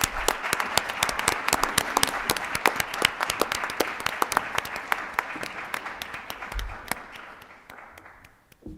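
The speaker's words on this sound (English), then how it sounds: "Let's give Andrea a big round of applause." At a school board meeting, an audience gives a student receiving a certificate a round of applause: steady, sharp clapping that carries on for several seconds, then fades out.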